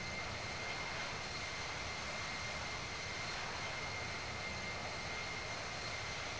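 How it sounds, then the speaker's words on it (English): Steady, unbroken airplane engine drone in the flight simulator game Infinite Flight, a constant broadband roar with a faint high whine, even and continuous throughout, no talk. "And we should be able to hear the plane as normal."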